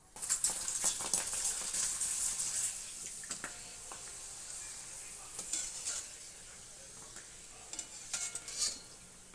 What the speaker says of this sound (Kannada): ಇವಾಗ ಇದನ್ನು ಎಣ್ಣೆಲಿ ಕರೆದ್ಬಿಟ್ಟು ತೋರಿಸ್ತೀನಿ.